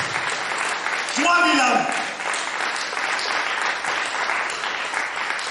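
A church congregation claps and cheers in sustained applause during a French-language sermon, with the preacher's voice carrying over the crowd noise.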